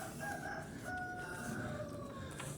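A rooster crows near an RV during repair work, with two long drawn-out calls over a steady background hum and no talking.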